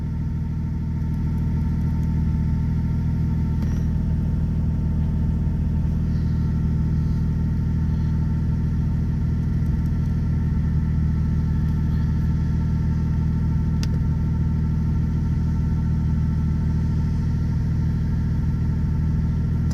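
A 1990s Toyota Supra engine idles steadily after starting, a continuous close low rumble with no revving or pauses.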